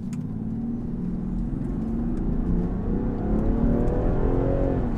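A 2020 Land Rover Defender First Edition with a turbocharged six-cylinder pulls hard under steady acceleration, its engine drone rising in pitch from inside the cabin, loud and continuous with no talking.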